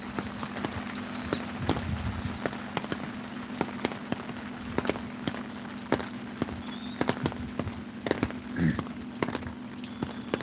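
Steady patter of rain with scattered drops tapping on a hard surface, a continuous soft wash of noise throughout, with wind blowing, near lotus plants at a temple.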